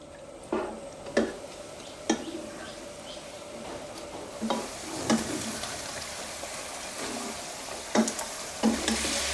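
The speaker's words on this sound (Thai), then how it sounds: "น้ำมันของหมูเนี่ยเริ่มออกมา ให้เราคั่วในกระทะแบบนี้ไปเรื่อยๆ ครับ คนพลิกไปพลิกมา" Pork belly frying in its own rendered fat in a pan gives a steady, close sizzle, broken by regular scraping and clacking as the pieces are stirred and turned over.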